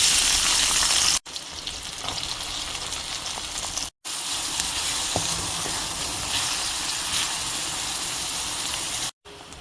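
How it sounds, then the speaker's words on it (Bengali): Dried chili, green chili and onion fry in a pan with a loud, dense continuous sizzle, close up, broken by two brief cuts to silence. "পেঁয়াজ মরিচ ভাজা থেকে সুন্দর ফ্লেভার বের হয়ে আসছে।"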